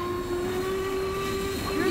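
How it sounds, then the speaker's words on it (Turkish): A train rumbles steadily with a sustained tonal hum, like a locomotive or carriages pulling out, loud and continuous with no clear pauses. "13 numaralı tren kalkmak üzeredir."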